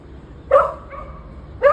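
Stray dogs roaming as a pack bark loudly and close by, two sharp barks about a second apart over a low background rumble.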